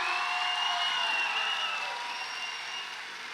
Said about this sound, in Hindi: म्यूजिक बंद करके सिर्फ अपनी तालियां उनके दिल तक पहुंचा दीजिए